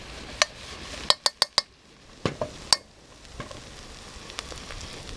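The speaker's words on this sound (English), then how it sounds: "Mix it all together." Clams being stirred in green curry sauce in a pan, with a series of sharp metallic clinks and clacks of a utensil against the pan over a soft sizzle, some in quick succession.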